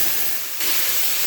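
Drumsticks (moringa pods) drop into hot mustard oil tempered with black cumin, and a bright, loud hiss surges at the moment they go in, then holds as a steady close sizzle with no talking.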